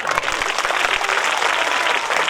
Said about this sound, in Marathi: जरा आम्हाला टाळ्यांचा आवाज येऊ द्या ना.